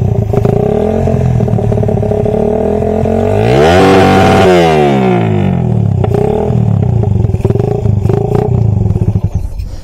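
Motorcycle engine with a racing CDI revved hard and held against its 12,000 RPM limiter, a loud close roar that climbs and stutters with sweeping pitch changes, then keeps bouncing off the cutoff, no voices.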